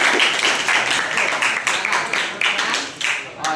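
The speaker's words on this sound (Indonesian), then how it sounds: "Boleh tepuk tangan dong." An audience claps after a presentation on revolve steps in CAD modeling, a dense patter of many hands at steady volume that thins slightly near the end.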